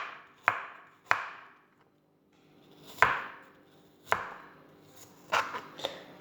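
Knife chopping an apple on a board, six sharp distinct cuts at irregular intervals, close and fairly loud with faint rustle between strokes, no talk.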